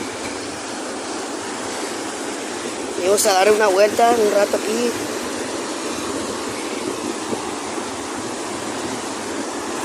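Steady broadband wash of ocean surf at a beach in Mazatlán, Sinaloa, continuous and fairly loud throughout, with someone speaking briefly over it in the middle.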